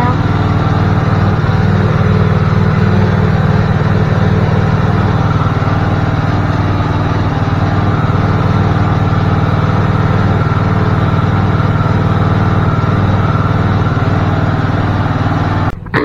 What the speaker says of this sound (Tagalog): Nag-grass cutter siya.